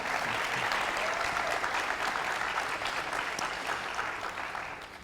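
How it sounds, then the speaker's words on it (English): Audience at a county sheriff candidates' debate breaks into steady, dense applause that fills the room, holding strong and tapering slightly at the end. "give a round of applause to our two candidates tonight"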